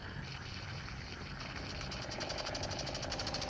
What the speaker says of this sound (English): Here is a scale model of an old-fashioned steam engine. I'm going to start it.